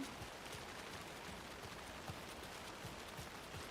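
Steady rainfall in the video game Alan Wake II: a faint, even hiss with scattered soft droplet ticks running unbroken throughout, with no talk.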